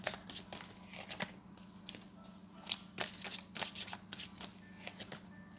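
Tarot cards are shuffled close up in a quiet room, making crisp, repeated riffling and flicking bursts at an uneven rhythm with no talking.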